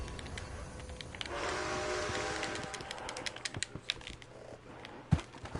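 A Red Dead Redemption 2 train rolls on the line toward Wallace Station, with a sustained rumble, a tonal whistle-like swell early on and then quick rattling clacks of the cars. It is fairly faint and there is no talk.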